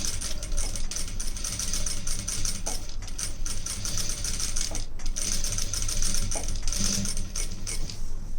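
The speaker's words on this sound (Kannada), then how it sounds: "ಅದಕ್ಕೋಸ್ಕರ ಮತ್ತೆ ನಾನು ಸ್ಟಿಚ್ಚನ್ನು ಹಾಕ್ತಾಯಿದ್ದೀನಿ." A sewing machine stitches piping on a simple garment design with a steady, rapid mechanical whirr and needle rattle. It runs continuously at close range, with a few brief dips in speed.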